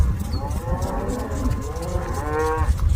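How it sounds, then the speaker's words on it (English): Cattle being herded from one field to another in the American West low in a series of loud, overlapping moos, several animals calling close by against a rumbling background. "a typical scene from the west, moving the cows from one field to the other"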